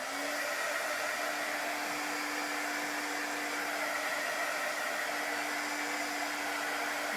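A hair dryer blows steadily on chalk paste over a craft piece, a constant close whooshing roar with a faint motor whine, unbroken throughout.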